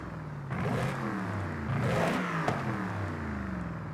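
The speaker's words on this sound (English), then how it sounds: "Revs so much quicker now." A car's engine revs repeatedly in Forza Horizon 5, tuned with upgraded pistons, cooling and a lighter flywheel but a stock exhaust, its pitch climbing and falling in quick loud sweeps, close and unaccompanied by talk.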